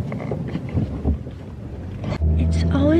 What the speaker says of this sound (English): I'm in the backseat of the car with Eloise now.